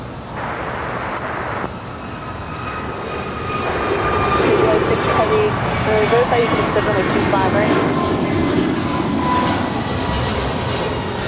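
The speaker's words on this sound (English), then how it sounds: "2289 heading to Miami, Florida on an A321neo" An American Airlines Airbus A321neo bound for Miami rolls for takeoff from runway 25 right at LAX, its jet engines building into a loud, broad roar heard from a distance outdoors.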